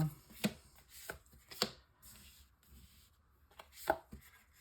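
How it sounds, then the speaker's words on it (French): Tarot cards drawn one by one from a deck during a reading, giving a few soft, sharp snaps and slides with quiet pauses between them, close and fairly faint. "Nous allons donc sortir 9 cartes."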